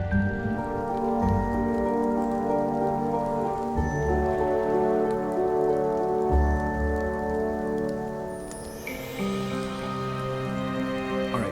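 Steady rain falls in the video game Nancy Drew: Midnight in Salem as a constant soft hiss. It sits under sustained, droning musical tones that shift slowly through the scene, with no voices.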